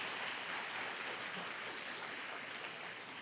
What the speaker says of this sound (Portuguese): Eu queria que você aplaudisse esses corações voluntários.